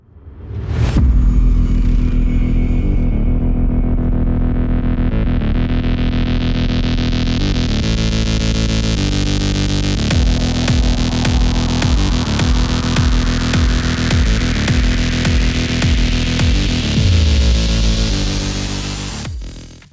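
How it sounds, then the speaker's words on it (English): A portable bandsaw clamped upside down in a vise cuts metal with a loud, harsh, distorted motor drone that runs steadily for nearly twenty seconds, with a rising grinding whine as the blade bites, then winds down. "I'm gonna put this thing in that vise upside down, and I'm gonna use this like a bandsaw"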